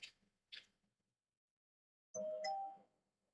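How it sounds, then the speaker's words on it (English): A phone alert bell on a switched-off phone rings once, a short, faint tonal chime after two soft taps and a stretch of quiet, with no talking. "That bell you heard was my phone"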